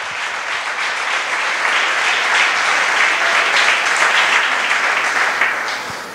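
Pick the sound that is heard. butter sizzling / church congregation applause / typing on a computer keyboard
church congregation applause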